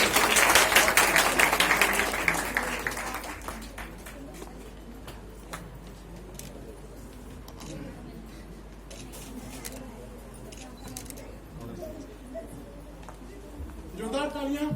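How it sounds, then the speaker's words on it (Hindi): An audience at an award ceremony in Jabalpur claps loudly for the first few seconds; the clapping then fades to scattered claps beneath a presenter speaking over a microphone. "जोरदार तालियों से स्वागत किया जाए।"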